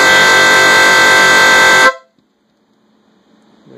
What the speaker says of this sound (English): I'm going to flick the switch, and we'll see the horn turn on